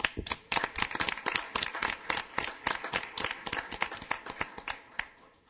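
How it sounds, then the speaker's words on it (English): A small council meeting audience claps, with individual hand claps distinct in a brisk, uneven rhythm at close to moderate distance, lasting several seconds before stopping abruptly. "Please, a round of applause"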